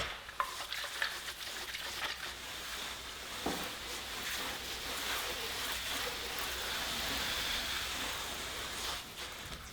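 A towel dunked and swished in a rinse bucket of water during a no-rinse wash of an Audi SQ5, heard as close, continuous sloshing and splashing with a few sharper splashes.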